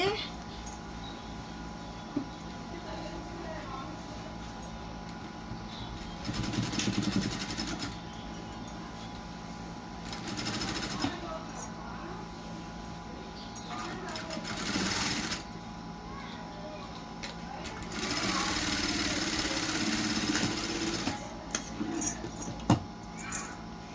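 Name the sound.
sewing machine stitching a blouse piece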